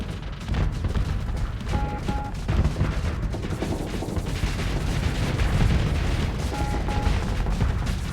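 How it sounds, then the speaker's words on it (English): Ships blowing up in a Starsector space battle in the video game, a continuous dense barrage of booms and weapon fire with faint tonal beeps, no speech. "And there goes all my ships. They're all, like, getting blown up."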